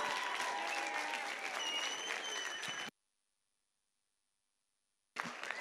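An audience at a school graduation ball applauds in a dense, steady wash of clapping that cuts to silence partway through, then resumes abruptly at the end.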